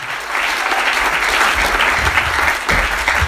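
A congregation at a French-language church service acclaims with loud, sustained clapping, a dense roar of many hands close by with low crowd rumble underneath.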